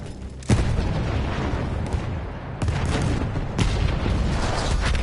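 Explosions and gunfire in the World War I shooter Battlefield 1, several heavy booms landing at intervals over a constant roaring rumble of battle, fairly loud and with no talking.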